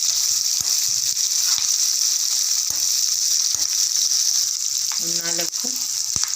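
Peeled garlic cloves sizzle steadily in hot oil in a pan, a constant close frying hiss with faint stirring, and a brief spoken word near the end.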